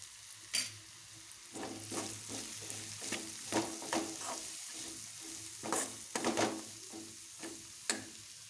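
A kasarakaya (spine gourd) fry with lentil powder sizzles softly in a pan while a spatula stirs and scrapes in irregular bursts, close up, with no speech.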